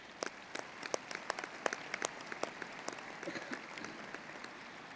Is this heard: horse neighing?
no